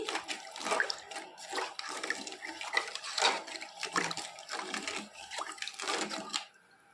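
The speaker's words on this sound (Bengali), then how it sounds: "দু বাটি জল দিয়ে দিলাম এক একটু নেড়ে চেড়ে দিচ্ছি" Stirring two bowls of water into a cooking pot with rice and lentils for a sweet, giving a sloshing, scraping, watery swirl in repeated strokes, close by and moderately loud, stopping near the end, with no speech.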